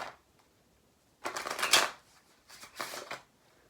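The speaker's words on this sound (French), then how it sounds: "on va mélanger ce paquet de cartes pour perdre la carte du spectateur." A deck of playing cards shuffled for a magic trick, two close riffling bursts with a short pause between, no talking.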